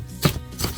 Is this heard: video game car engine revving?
no